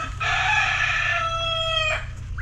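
A rooster at a farmhouse with chickens gives one loud, clear crow of about two seconds, close by, over a faint low hum.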